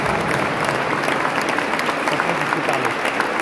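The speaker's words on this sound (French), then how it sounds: "Alors j'aimerais vraiment que vous applaudissiez" Audience applause inside a cathedral during a music festival, a continuous wash of many hands clapping with reverberant spread, steady and sustained without talk.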